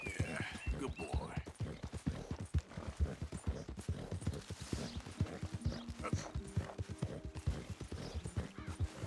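Horse hooves clip-clop steadily in Red Dead Redemption 2, a rapid even rhythm of close, distinct hoofbeats running throughout, with someone talking over them and a brief whinny near the start.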